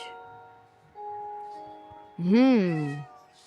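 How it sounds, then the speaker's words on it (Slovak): Cat in the Minecraft video game giving a clear rising and falling meow, preceded by a steady tonal game background hum. "Aha, mačička. Miau."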